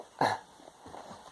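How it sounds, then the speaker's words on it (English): A dog makes one short, loud bark-like burst close by, followed by low, faint rustling and shuffling. "surprise appearance by the dog"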